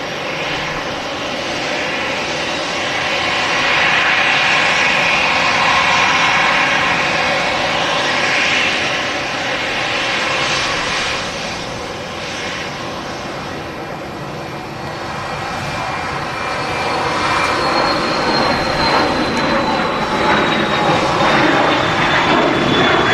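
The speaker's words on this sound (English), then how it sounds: "EasyJet is in from Geneva. Whiskey X-ray on the reg. It's an A320. And about to touch down is a Ryanair operated by Buzz." Jet airliners, including an Airbus A320, landing at Manchester Airport, their engines making a loud, sustained roar that swells and eases across the clip, with a rising high whine near the end.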